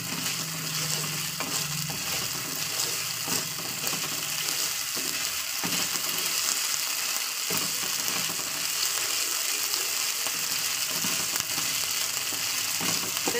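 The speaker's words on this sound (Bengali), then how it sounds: "যাতে মশলা থেকে তেলটা ছেড়ে আসে।" Spice paste fries in oil over a high gas flame, a loud continuous crackling sizzle with intermittent stirring scrapes and pops throughout.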